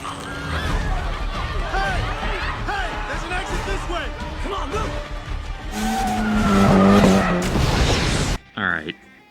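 Race cars skidding and crashing in a NASCAR-style race scene from Final Destination 4, with loud tire squeals, engine roar and grinding impacts building to a harsh metallic climax before cutting off abruptly.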